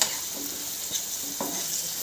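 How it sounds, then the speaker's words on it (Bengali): Carrots and peas frying in a pan, a quiet, even sizzle with a couple of light stirring scrapes. "গাজর মটর ভাজা হয়ে গেছে"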